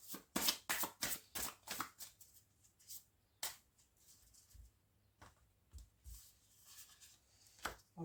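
Tarot cards being shuffled by hand in a series of quick riffling bursts, loud and close at first, then sparser rustles and shuffles, with no talking.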